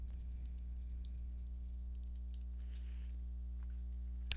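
Fingers type a chat message on a computer keyboard during an online lecture, a quick irregular patter of key clicks that is faint and close, with no talking.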